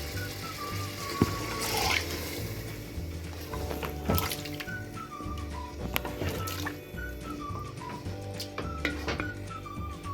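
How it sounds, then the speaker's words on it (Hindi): Water pours and trickles steadily into a pot of chicken and chickpea curry, with small drips and clinks over a busy kitchen background of sizzling and faint tonal chimes. "मैं थोड़ा सा पानी शामिल कर दूँगी।"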